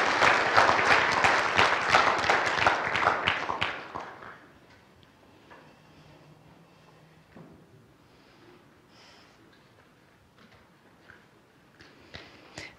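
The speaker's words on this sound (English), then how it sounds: "please join me in applauding the next generation of allied health professionals" A college signing-day audience claps for allied health students, a loud dense burst of many hands that fades out after about four seconds, leaving a quiet room with scattered faint knocks and shuffles.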